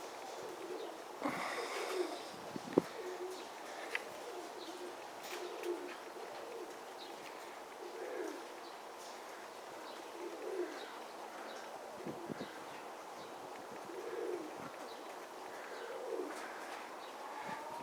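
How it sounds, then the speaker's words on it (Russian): Domestic pigeons coo repeatedly outdoors in the morning breeze after being released, soft rhythmic calls rising and falling with some nearby rustling and a few brief knocks. "Вот поднял сегодня голубей."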